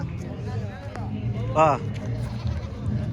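A goat bleats once, brief and fairly near, amid the chatter and crowd noise of a busy goat and sheep market in Pileru; people talk throughout.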